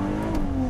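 A Ferrari 296 GTB hybrid supercar revving its engine, a steady, loud, tonal engine note held close up for under a second, with no one speaking over it.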